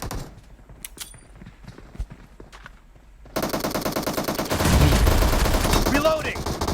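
Gunfire in PUBG Mobile: a few sparse clicks and distant shots give way to loud, continuous rapid automatic fire that grows heavier and more intense toward the end.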